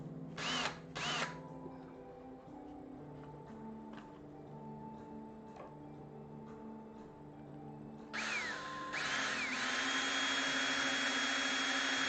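A power drill whirs in short bursts near the start, then runs steadily and loudly for the last few seconds, close by, with a faint mechanical hum in between and no talking.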